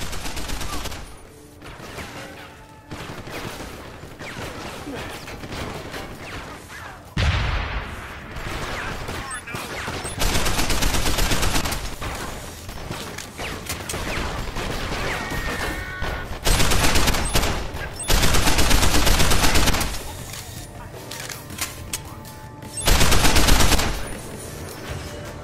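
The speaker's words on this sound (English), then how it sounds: "An upgrade on our combat rifle allows our bullets to curve and seek targeted enemies." Combat rifle fire in Deus Ex: Human Revolution Director's Cut, heard as repeated loud bursts of automatic fire and fusillades amid game noise across the clip.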